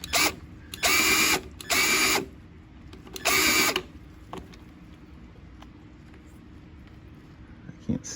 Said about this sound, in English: Now that we've put it on, we're gonna put the 5/16 bolts on.